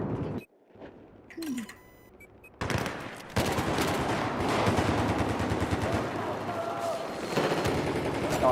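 Gunfire in the video game Battlefield 4: after a quiet start with a few small sounds, dense rapid automatic shooting kicks in and keeps going loudly, with overlapping bursts and a voice talking over it.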